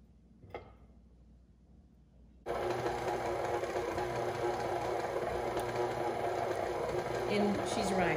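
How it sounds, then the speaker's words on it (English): Stand mixer churning brown sugar ingredients, switching on abruptly after a quiet moment and then running as a loud, continuous motor whir with faint clatter from the bowl. "Push the ingredients down so that our mixer can get to it."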